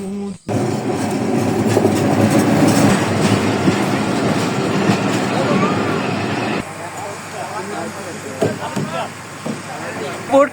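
A train runs through a busy railway station with a loud rumbling clatter of wheels over rails that fades after several seconds. Voices of people on the platform are heard throughout and stand out more once the train passes.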